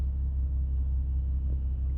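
Deep, steady low exhaust rumble from a Stage 2 BMW M340i fitted with a Dinan valved exhaust, a continuous drone close by without revving peaks or talking.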